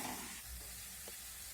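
Boiled noodles with vegetables and a fried egg being stirred in a pan, a faint steady sizzle with a single soft scrape of the utensil.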